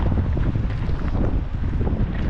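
Strong, cold wind buffets the microphone outdoors on a winter day in Madrid, a steady loud roar with no pauses and no other sounds standing out.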